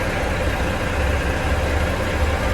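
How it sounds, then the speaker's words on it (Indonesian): Volvo B11R bus engine idling while parked at a bus terminal, a steady, deep, continuous rumble heard up close without talk. "Kita dengar dulu bagaimana bunyi mesinnya dari Volvo"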